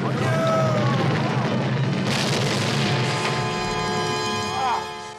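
A cartoon potion explodes with a loud boom and sudden broad crash, followed by a lingering ringing tail and scattered whistling effects, under a noisy animated soundtrack.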